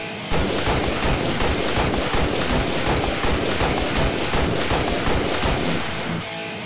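Rapid, continuous rifle gunfire from the M392 designated marksman rifle in the Halo: Reach video game, with dense overlapping shots and booming impacts sustained loudly for several seconds.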